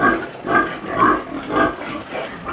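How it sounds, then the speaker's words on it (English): A large young sow, about nine months old and pregnant, on a farm, grunting in a steady rhythm of four or five close, throaty grunts with no talk over them. "She's a pretty big pig, and she'll get about half again bigger."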